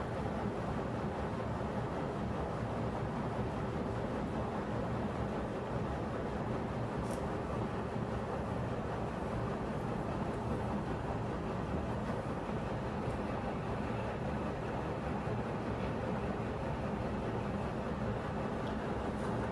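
Water splashes and churns inside a Samsung Flexwash lower washer running its Self Clean+ cycle, a steady, dense wash of sound that continues unbroken throughout with no voices.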